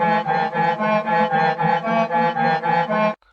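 Pitched, EQ-processed sample loop in an FL Studio beat plays alone at moderate level, a rhythmic pattern of about ten even pulses that stops sharply near the end.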